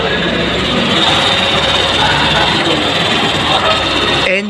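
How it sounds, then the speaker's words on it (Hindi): A 2022 Hero Super Splendor 125 BS6 motorcycle engine idles steadily with a dense, constant rumble and no pauses, close by, until it cuts off abruptly at the very end. "इसका मैं इंजन साउंड आपको सुनाऊंगा"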